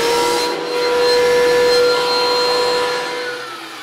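A table saw rips hardwood boards for a chess board, giving a loud, steady motor whine with a strong tonal pitch that swells slightly mid-cut and then tapers toward the end.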